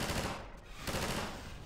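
An automated turret firing in Half-Life 2, a continuous rattling stream of rapid gunfire that dips briefly and resumes, dense and moderately loud.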